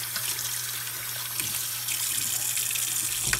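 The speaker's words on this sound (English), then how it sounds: "So we're gonna wash the big spoon off." Tap water runs steadily into a kitchen sink as a big cooking spoon is rinsed under it, close and continuous with light splashing and no talking.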